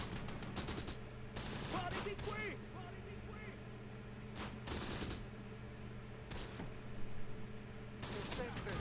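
Mortar and small-arms fire in the Close Combat wargame: clusters of sharp gunshot bursts and thuds recur at irregular intervals over a steady hum, fairly faint and distant, with some talk alongside.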